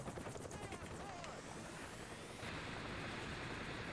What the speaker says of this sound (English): I bought a fucking helicopter with a minigun.